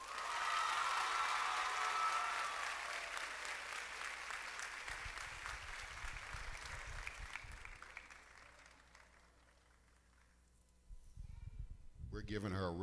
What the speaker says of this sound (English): That individual, and help me congratulate her with a loud applause, is Jasmine Papaleo.